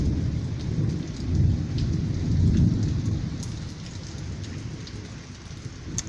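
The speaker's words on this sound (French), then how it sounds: "il s'est mis à pleuvoir" Heavy rain pours steadily on surfaces beside a railway museum in Slovenia while thunder rumbles low and long, swelling twice before easing; no voices.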